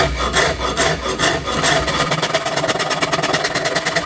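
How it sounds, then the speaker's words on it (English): The coarse side of a Shinto rasp shaves down wood in loud, rhythmic rasping strokes, rough scraping repeated back and forth at a steady pace, close up with no talk. "Using the coarse side of the Shinto, and I'm just taking this down, thinning it out"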